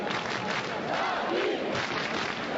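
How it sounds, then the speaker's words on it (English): Enthusiastic judo crowd at a 1997 Paris heavyweight semi-final chants and cheers for their fighter, a loud, swelling roar of many voices filling the hall. "the enthusiastic crowd cheering their man on"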